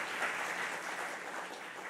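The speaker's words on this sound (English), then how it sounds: "A round of applause, please, for them." Conference audience applauding after sponsors are thanked, a brief burst of steady, dense clapping from a sizeable room, even in level and fading slightly at the end.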